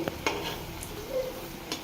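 Eggplant fritters (beguni) frying in hot oil as they are flipped, giving a faint, steady crackle with a few sharp clicks and taps from the utensil against the pan.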